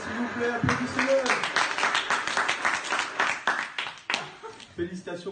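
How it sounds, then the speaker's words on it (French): An audience claps after a sung performance at a student event, a dense run of applause that stays steady throughout, with voices talking over it. "S'il vous plaît, applaudissez-le."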